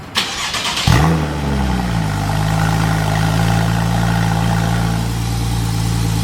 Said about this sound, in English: This is your first cold start.